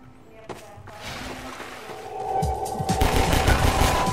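Gunfire in Half-Life 2: a few sharp shots early on, then a dense, louder burst of rapid fire and impacts toward the end, with someone talking at times.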